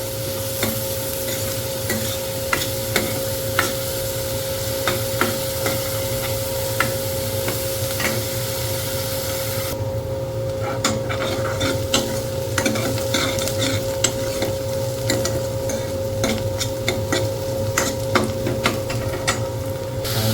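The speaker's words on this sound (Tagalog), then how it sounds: "Luto po natin hanggang light brown po sibuyas." Onions fry in butter in a pan, browning lightly, under constant stirring. A steady low sizzle runs throughout, punctuated by frequent clicks and scrapes of a utensil against the pan, with no voices.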